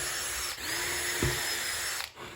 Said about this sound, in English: I first drilled pilot holes in the base from the underside